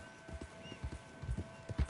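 Horse hooves clip-clop at a steady walking rhythm in Red Dead Online, a big Belgian draft horse, heard close and clear with no talk over them.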